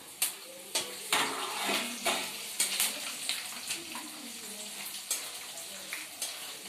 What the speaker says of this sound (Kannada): ಒಣಮೆಣಸಿನ್ಕಾಯಿ, ಕರಿಬೇವಿನ ಸೊಪ್ಪು, ಸಾಸಿವೆ ಮೂರೂ ಒಂದೇ ಸಲ ಹಾಕೋತಾ ಇದ್ದೀನಿ